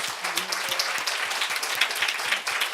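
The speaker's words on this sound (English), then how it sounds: "주님께 영광의 박수 올려드리겠습니다." Congregation clapping together as a praise offering in a church service, a lively, fast stream of many hands close by, with a few voices and an instrument faintly underneath.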